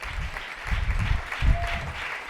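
A church congregation claps and cheers during a French-language sermon, steady mid-level applause filling the short moment without any spoken words.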